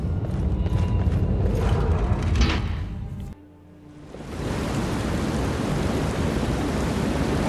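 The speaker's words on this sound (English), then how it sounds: "I don't know what's with the rain in Markarth." Steady heavy rain hisses in the city of Markarth in the game Skyrim, a dense continuous wash that briefly drops away to near silence, then returns just as strongly; no speech.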